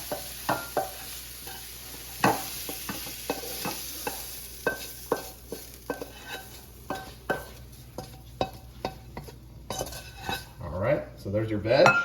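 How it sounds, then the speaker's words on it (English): Stir-fried beef and vegetables for a chow mein stir fry are scooped from a hot pan into a bowl, with repeated close clinks and scrapes of a utensil against cookware over a faint sizzle. "So let's put all of our veggies in a bowl here."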